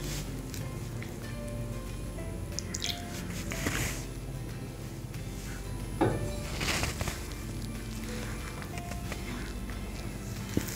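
Ragi and bottle gourd dough being mixed by hand after a light sprinkle of water, giving soft squishing, patting and dripping sounds close by over a steady low background, with no talking.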